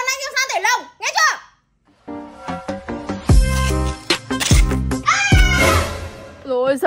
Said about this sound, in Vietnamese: Mẹ con mèo đây.